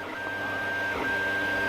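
A Longer Cube2 3D printer running with its stepper drivers giving a steady, loud mechanical whir and a sustained high electronic whine that briefly dips and returns, close up, with no talk.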